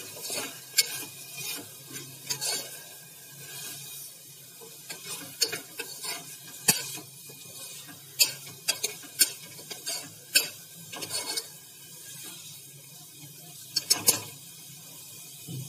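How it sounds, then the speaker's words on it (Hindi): Masala paste for a mixed sprout curry stirred and roasted in a pan over high heat: repeated scraping and clacking strokes of a spoon over a soft sizzle, close and moderately loud. "सेक कर रही हूँ तेज में।"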